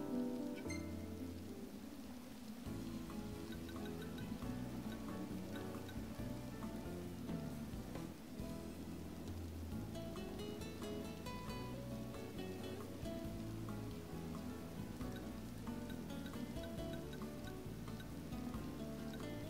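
Steady rain pours over a campsite in Final Fantasy XV, a dense continuous wash of falling drops heard throughout, with soft music running underneath.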